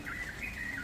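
Birds chirp and tweet at dawn, a continuous bright twittering chorus over a steady hum of background noise, with no voices.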